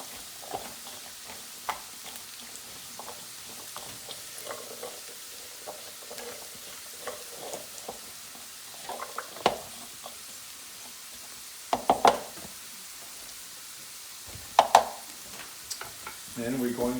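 Garlic frying in a pan for sweet potato and black bean tacos, a low steady sizzle under repeated scraping and clattering of a utensil stirring, with a few louder knocks near the end, close and without speech.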